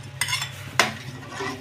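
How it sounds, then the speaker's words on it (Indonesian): Blended spice paste in oil hitting a hot pan for seafood tom yum, a burst of sizzle followed by a sharp clink of utensil on the pan and continued frying, no talk. "Ya, minyak sudah panas. Kita masukkan ya bumbu-bumbunya."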